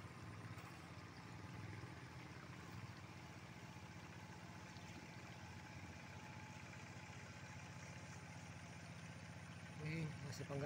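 A tractor working a rice field chugs continuously in the open, a steady mid-pitched idling drone with faint background noise and no change in pace.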